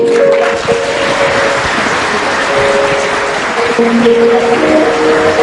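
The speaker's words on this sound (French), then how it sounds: "Vos acclamations, mesdames et messieurs, plus fort, plus fort, plus fort. Un standing ovation pour cette présentation" Audience applause and cheering after a mock trial held in memory of a law professor, a dense steady wash of clapping with a sustained tone running through it, filling the room throughout.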